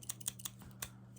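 Scissors snip at hair in a close, quiet ASMR haircut roleplay, several crisp little clicks spaced irregularly over about a second, with no speech.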